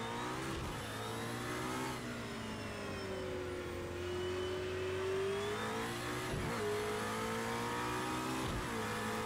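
A McLaren P1 GTR race car engine in Project Cars 2 revs loudly and continuously, its pitch sweeping up and down through several surges with no talk over it.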